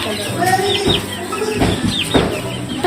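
Chickens clucking close by in short irregular bursts, with a busy outdoor background murmur.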